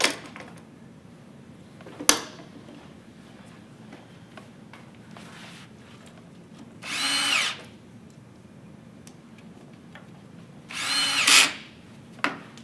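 Power drill driving screws into a wooden face frame, two loud whirring bursts of about a second each separated by a quiet pause, with scattered clicks and faint handling noise between them.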